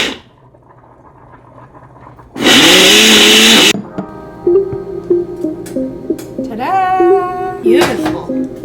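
A blender mixing a sweetened protein shake roars loudly for about a second, then stops, followed by clattering and someone talking.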